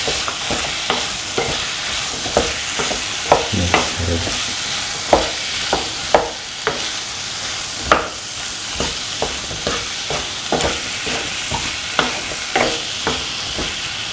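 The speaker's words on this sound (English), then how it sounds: "Now put in the yam pieces. Mix." Yam pieces frying in a pan sizzle steadily as a spoon stirs and scrapes them in regular knocks, close and fairly loud throughout.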